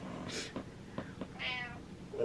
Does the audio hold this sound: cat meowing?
yes